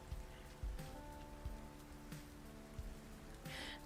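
Light rain patters steadily on a surface, a soft, quiet and even wash with a few sharper drops and dull thumps, and no voices.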